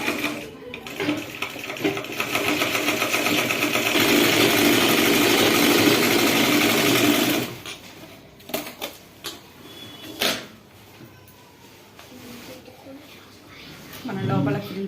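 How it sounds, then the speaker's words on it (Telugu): A sewing machine stitches a straight seam on a silk pattu langa petticoat, a loud steady whirring run for about seven seconds before stopping, then quieter handling noises and someone speaking over it. "ఇప్పుడు కుట్టుకోవాలి. ఇట్లా స్ట్రైట్గా కుట్టుకుంటూ వెళ్ళాలి."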